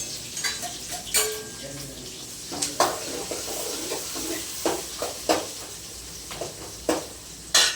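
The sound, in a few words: fennel seeds frying in hot oil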